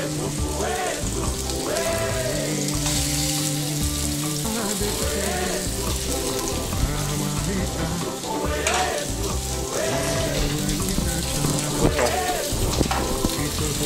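Blanched vegetables sizzle steadily in a pan over high heat, a loud, continuous crackling fry with occasional stirring scrapes and faint voices in the background.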